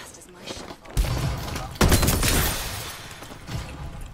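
AK rifle fire in the video game Farlight 84 comes as two sudden loud bursts with a rattling tail, set against busy game noise and a faint voice in the background.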